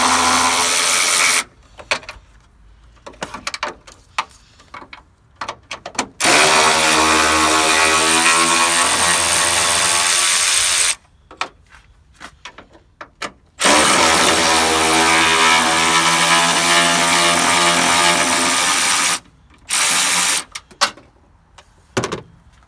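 A power tool whirs in long bursts to remove the headlight bolts on a Mercury Grand Marquis, a loud, close motor whine rising and settling, separated by short pauses and clicks between bolts.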